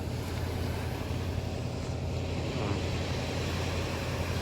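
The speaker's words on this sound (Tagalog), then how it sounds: "Ang ganda ng alon ngayon, tahimik, malumanay siya." Gentle waves lap steadily at a lake beach, a continuous soft wash with wind noise across the microphone and no clear speech.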